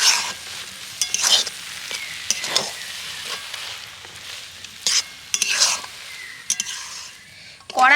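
Raw potato dough being stirred in a hot pan as the moisture cooks off, with scraping strokes of a spoon against the pan, soft sizzling and occasional clinks, rising and falling in irregular bursts.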